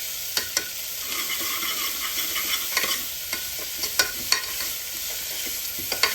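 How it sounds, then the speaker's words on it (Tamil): Onions and spices sautéing in a pan for black chickpea kurma, a steady close sizzle with a spoon scraping and tapping the pan in irregular strokes throughout. "நல்லா வதங்குற வரைக்கும் மிக்ஸ் பண்ணுவோம்"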